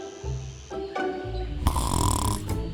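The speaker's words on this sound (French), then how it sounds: "On dirait... un ronflement?" A loud, close snoring creature in a cartoon cave setting makes deep rumbling, grunting breaths, a low drawn-out inhale followed by a rattling, buzzy exhale that grows louder.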